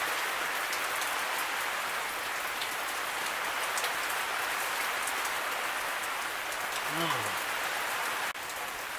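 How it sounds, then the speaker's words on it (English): Heavy rain pours down outdoors beside a griddle in a dense, steady hiss that fills the whole stretch, with a brief low whooshing sweep near the end. "it's pouring down rain"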